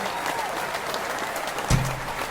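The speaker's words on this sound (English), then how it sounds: "My guests always get a bigger and better applause than me" A studio audience claps for a talk show guest in a steady, moderately loud burst of applause, with a brief thump near the end.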